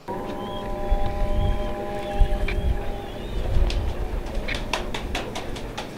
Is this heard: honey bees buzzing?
no